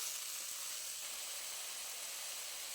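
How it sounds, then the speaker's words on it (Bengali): Chopped onion, ginger paste, kulekhara greens and potato fry in a pan with a steady, soft sizzle and hiss, faint and continuous without talk. "খুব ভালো করে ভেজে নেব"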